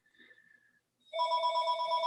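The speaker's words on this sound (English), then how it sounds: "sorry, there's a phone in the background." A telephone rings in the background of an indoor conversation, starting suddenly after a faint moment and holding as a steady electronic trill, clear and fairly loud.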